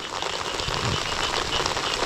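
Steady rain pouring down outdoors in a rural Thai setting during a tractor engine repair, a continuous dense hiss of drops without pause, close and fairly loud.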